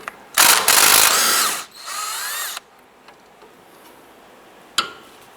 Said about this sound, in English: we're going to put our wrench on that and loosen and remove this nut